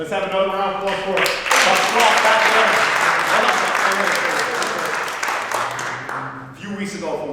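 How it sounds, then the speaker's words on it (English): A crowd at a city employee appreciation event breaks into loud, sustained applause that swells and fades, with a voice briefly heard at the start and end. "Let's have another round of applause for"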